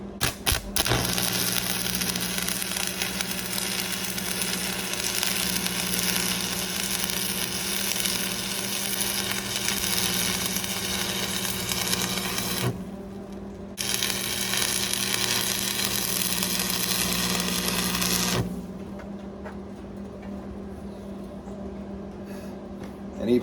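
An arc welder crackles and buzzes steadily and close while joining farm equipment. The hiss runs for long stretches, with one short break and a quieter tail at the end.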